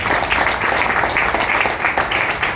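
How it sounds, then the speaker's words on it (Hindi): Enthusiastic audience applause for a guest leader at a business success gathering, loud and dense clapping that holds steady for the short stretch without any voices. "मैं चाहूँगा गुरुजी के लिए भी एक जोरदार तालियां।"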